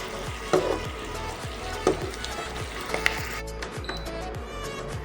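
Ginger garlic paste sizzling in hot oil while cooking chili mushroom, a steady close frying hiss with periodic stirring scrapes and clacks against the pan.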